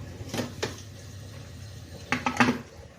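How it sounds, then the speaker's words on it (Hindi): A pressure cooker lid is closed in a home kitchen while mutton cooks with chopped tomatoes and a glass of water: two quick metallic clanks, then a louder cluster of clattering knocks near the end. "कुकर को कर दूंगी बंद"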